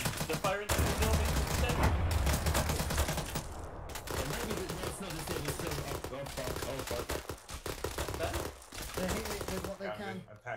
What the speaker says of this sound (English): They're firing at the building!